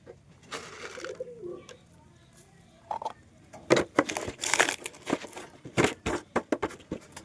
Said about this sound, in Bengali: এই যে সবুজ দুটো বাদে সবকটা পায়রাই বাইরে এসছে।